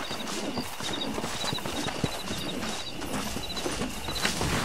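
Horse hooves clip-clop steadily and close in the Western game Red Dead Redemption, a continuous rapid patter of hoofbeats over a dense outdoor ambience, with no talking.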